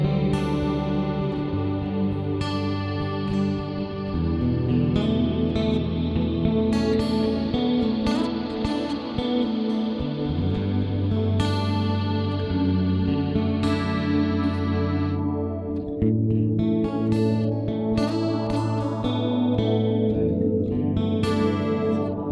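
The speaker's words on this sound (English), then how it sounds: "So I use this multi-delay block instead of the reverb on the FM3" Acoustic guitar played through the multi-delay block of a Fractal FM3 in place of reverb, sustained chords and notes smeared into lush, chorus-like repeats, loud and continuous without talk.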